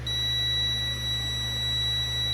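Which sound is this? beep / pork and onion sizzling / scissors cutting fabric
beep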